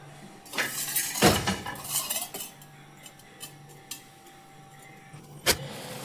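Dishes, pots and cutlery being washed in a home kitchen, with scattered metallic clinks and clatters of utensils, a couple of louder bangs and quieter gaps between them, no talking.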